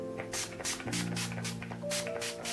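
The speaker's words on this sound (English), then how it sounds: "I'm going to be setting all of my makeup with the Urban Decay All Nighter Makeup Setting Spray." Urban Decay All Nighter makeup setting spray misted over a freshly made-up face, a rapid series of about six short pump bursts of fine hissing spray, close and fairly loud, with faint background tones beneath.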